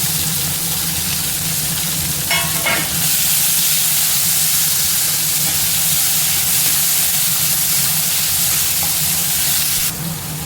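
Tomato with curry leaves sautéing in a pan for a bitter gourd stir-fry gives a steady, close sizzling hiss that runs unbroken throughout, with a brief faint clatter partway through.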